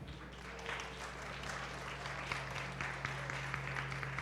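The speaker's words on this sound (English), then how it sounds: "Big round of applause for Brian." Steady applause from a crowd, a continuous clatter of clapping at moderate loudness, with a low hum underneath.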